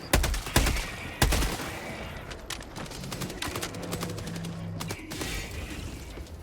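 Rapid automatic gunfire from a machine gun in the video game Helldivers 2, with sharp bursts near the start and continuous rattling layered with explosions and a low mechanical hum through the middle.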